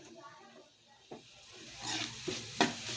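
A spoon stirring spices in a cooking pot while preparing an Iftar meal: soft, close scraping and swishing strokes, growing busier toward the end with a few sharper clinks against the pot.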